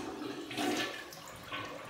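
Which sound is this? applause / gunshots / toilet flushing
toilet flushing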